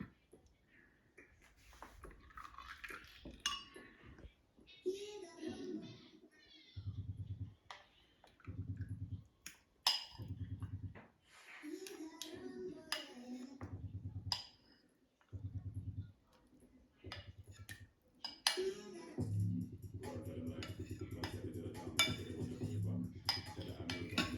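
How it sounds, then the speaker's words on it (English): A spoon scrapes and clinks against a mixing bowl while yogurt, vanilla and oil go into vanilla blueberry donut batter, with intermittent clattering strokes, gaps between them, and people talking at times. "Use a spoon to scrape it in there."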